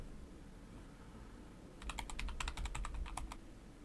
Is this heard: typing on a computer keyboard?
yes